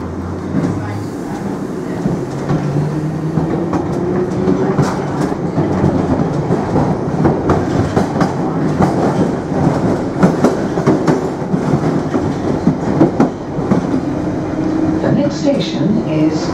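A London Underground Piccadilly line 1973 Stock train running from King's Cross St Pancras toward Cockfosters, a loud, continuous rumble with rhythmic clickety-clack of wheels over rail joints, heard from inside the carriage with automated announcements speaking over it.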